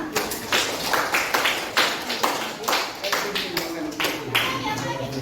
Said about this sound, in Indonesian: Silakan kasih tepuk tangannya.